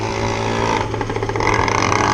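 Small engine of a Zippkits SLR Thunderboat RC boat "Red Baron" with its throttle stuck open, running in a steady, loud, high-pitched buzzing whine that rises slightly toward the end, with no voices.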